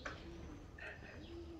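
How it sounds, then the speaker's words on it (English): Pigeons coo softly a few times in a quiet outdoor setting, low hooting calls spaced apart, with no talking. "Nothing, just birds."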